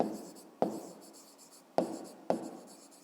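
A pen writes numbers on paper while a maths problem is worked out, giving a soft scratchy scribble broken by four sharp taps as strokes begin, close and fairly quiet, with no talking.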